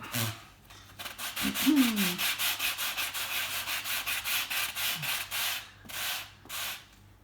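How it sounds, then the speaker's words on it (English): Sandpaper rubs back and forth over the edge of a paint pole roller, a rapid run of rhythmic rasping strokes that pause briefly before a final few passes, close and clear with no talking. "I'm going to sand that edge back up like that."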